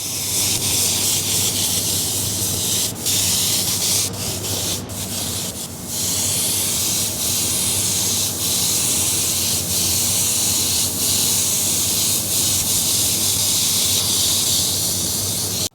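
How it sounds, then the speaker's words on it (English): An airbrush sprays paint lightly onto a skull, a close, loud, continuous airy hiss that holds steady throughout with only brief dips and faint clicks. "so I'm just going to spray lightly around"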